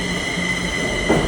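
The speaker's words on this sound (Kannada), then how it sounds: "ನಾನು ಇವಾಗ ಹೋಗ್ಬೇಕಾಗಿರೋದು ಇದೇ ಟ್ರೈನ್ಗೆ" Train pulling into a railway station, with a steady rumble of rolling cars, a sustained high metallic wheel squeal and a brief louder surge near the end, no talk over it.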